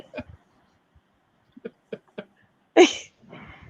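A person sneezes once, loud and sharp, after a few faint scattered sounds, followed by some quiet noise.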